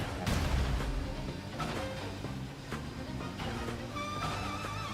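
Missile fired from a charged skill bottle in a Star Rail racing minigame, a steady, dense game mix of booming, gunfire-like blasts with bright tonal effects layered over continuous music and engine noise.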